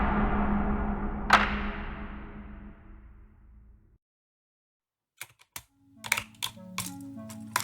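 Keys clack on a tray-mount mechanical keyboard with an aluminium top case, first a loud ringing strike that decays, then after a pause several crisp, uneven keystrokes up close.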